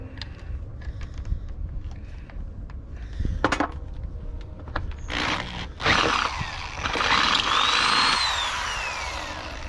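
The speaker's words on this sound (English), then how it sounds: "Yes, folks, we're still using the 40-year-old drill." A 40-year-old electric drill whirs in short bursts and then a longer run while fitting a new visor on a cabover truck, fairly faint with clanks and handling noises between.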